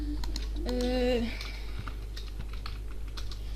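Rapid clicking keystrokes on a computer keyboard fill the clip, close and steady, with a brief voiced sound early on.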